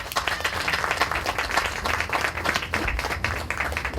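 Audience at a Catholic roundtable event bursts into steady, full applause welcoming a speaker, a continuous rattle of many hands clapping.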